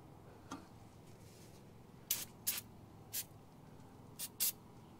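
Cleaner sprayed onto a filthy Tesla brake caliper in several short, sharp hissing bursts, some in quick pairs, over a quiet background with no talk.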